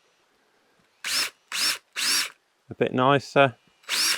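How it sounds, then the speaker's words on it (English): A countersink bit in a power drill tidies the edges of screw holes in a carved wooden hedgerow hook, in three short whirring bursts. A person speaks briefly before one more burst of drilling. "you might have a countersink bit at home. And just tidy up the edges of the holes so the screws fit"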